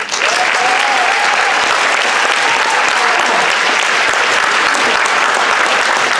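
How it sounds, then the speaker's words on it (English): A school assembly audience gives the teachers a round of applause during an academic awards event, a dense, steady roar of many hands clapping that stays loud throughout, with a faint voice underneath. "let's do another round of applause"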